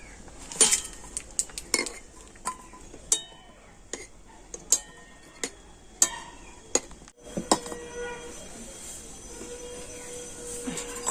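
Cooked ash gourd pieces dropped into a metal strainer in a home kitchen, giving a run of sharp, separate clinks and knocks close by with brief pauses between, and no one talking.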